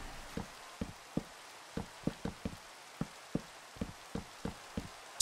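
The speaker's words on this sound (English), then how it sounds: "Raining again." Rain in the Minecraft Pixelmon video game falls as a soft, steady hiss, broken by a run of crisp, evenly spaced drip-like taps, with no voices.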